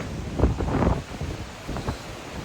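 Choppy sea waves surge and splash in broad rushing bursts as steady wind buffets the microphone during a boat crossing to Ireland, loud and close with no voices.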